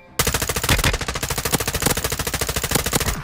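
Loud, close automatic weapon fire rattles through a Warzone 2.0 match on the Vondel map, a sustained rapid burst of shots lasting about three seconds.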